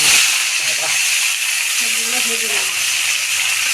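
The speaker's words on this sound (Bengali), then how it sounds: "তেলটা গরম হয়ে গেছে এখন পেঁপে" Papaya pieces fry in hot oil with a steady, loud, close hiss and sizzle throughout, while a voice speaks faintly underneath.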